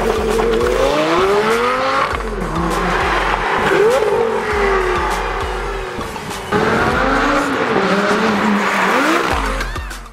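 Lamborghini Gallardo Spyder on the move, its engine loud and close, rising and falling in pitch as it revs through gear changes, with tire squeal and no talking.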